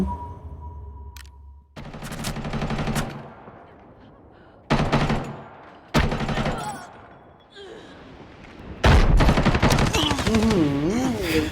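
Bursts of automatic gunfire in the shooter game Arena Breakout, several loud rapid-fire volleys separated by short pauses, with game sounds in between.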